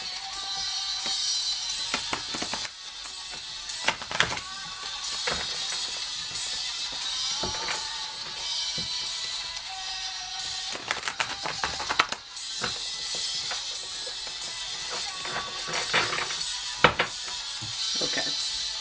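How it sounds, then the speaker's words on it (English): A new tarot deck is shuffled and handled at length, producing a continuous close-up clatter of card clicks and flutters, with sharper bursts of riffling every few seconds. "I'm gonna shuffle one more time."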